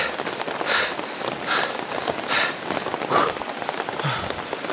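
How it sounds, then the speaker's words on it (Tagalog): Heavy rain pours steadily, a dense broadband hiss with periodic swells in intensity and no voices over it. "So, ang lakas ng ulan."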